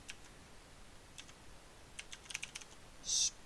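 Keys tapped on a computer keyboard in a few quiet, uneven bursts of light clicks, close but faint, ending with a brief louder click.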